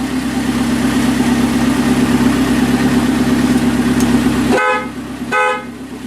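1981 Alfa Romeo Spider Veloce engine idles steadily around 900 to 1,000 RPM close by, then two loud blasts of its horn cut in near the end.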